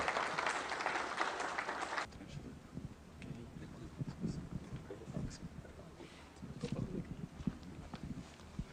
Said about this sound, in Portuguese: Uma salva de palmas para o nosso Pastor Marcelo.